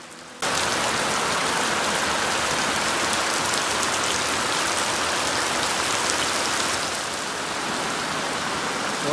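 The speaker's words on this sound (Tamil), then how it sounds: "நேபாளில் செம்ம மழை, அப்படியே கொட்டுன்னு கொட்டுது ஃப்ரெண்ட்ஸ்." Heavy rain pours down in Nepal, a dense, loud, unbroken hiss of drops hitting surfaces that starts abruptly and holds steady throughout.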